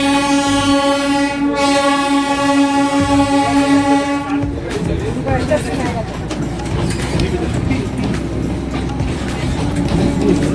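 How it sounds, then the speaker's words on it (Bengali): A vintage diesel toy train with a loud horn sounding for about four seconds, then the engine starting off with steady clattering and rumbling as it runs, with people talking nearby. "আমাদের টয় ট্রেন এনার ছেড়ে দিয়েছে, আর এই ভিন্টেজওয়ালা সাউন্ড জাস্ট অসম।"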